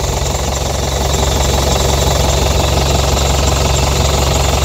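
A 2014 Isuzu Elf NHR short truck diesel engine idles up close, a loud steady knocking rumble with constant vibration and no talk.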